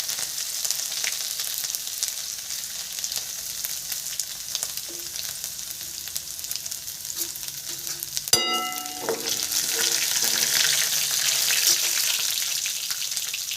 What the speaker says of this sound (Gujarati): અને ત્યારબાદ આપણે આ તલ છે એ તલ એડ કરી દઈશું આમાં.